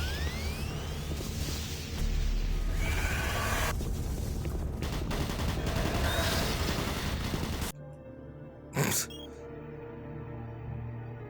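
Automated turret guns in the video game Doom 3 firing dense bursts for several seconds with whooshing impacts, then cutting off abruptly into near quiet broken by a single sharp burst.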